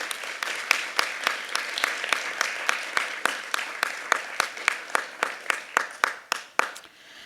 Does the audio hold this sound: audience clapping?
yes